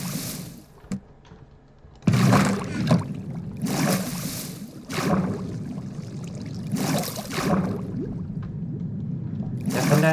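Bursts of splashing, gushing water in Minecraft recur every couple of seconds over a low, continuous flowing murmur, close and fairly loud.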